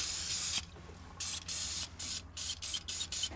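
Non-chlorinated brake cleaner sprayed onto a Mazda 5 EGR valve: a long hissing burst followed by a run of short, sharp spurts at close range, with no talking.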